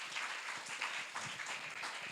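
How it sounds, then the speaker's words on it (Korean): A congregation at a church winter retreat gathering claps together, producing a faint, continuous patter of applause heard from a distance. "우리 수아에게 큰 박수 한번 부탁드립니다"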